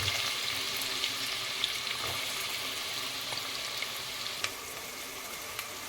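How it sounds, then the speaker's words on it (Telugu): Onions fry in hot oil for a kheema curry with a soft, steady sizzle and faint crackles, close by and fairly quiet, and nobody talks. "మనం ఆనియన్స్ వేసుకుందాం"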